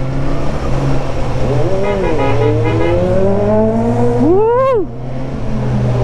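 A Suzuki big bike engine revs up through rising and falling pitch sweeps, loud and close, with a sharp high rev near the end; a voice cheers briefly.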